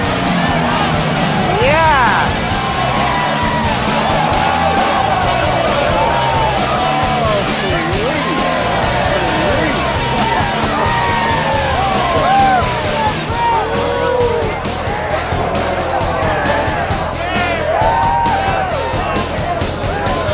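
Outdoor crowd at a Jackson Hole motorcycle hill climb yelling, whooping and cheering nonstop, a dense wall of many voices close by with scattered shouts rising above it throughout.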